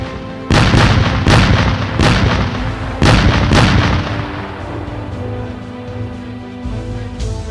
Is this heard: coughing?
no